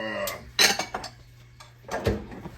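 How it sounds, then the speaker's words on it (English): Butter, brown sugar and butterscotch go into a pot for a candied yam sauce. A few separate clanks and clinks of utensils and cookware sound close by, with short quiet gaps between them. "You're gonna dump everything in the pot."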